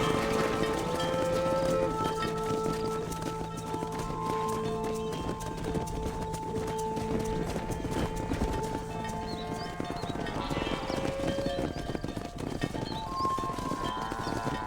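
Horse hooves clip-clop steadily on the ground in the Red Dead Redemption western video game, a continuous rhythmic trot amid ranch ambience and game music, with an occasional whinny.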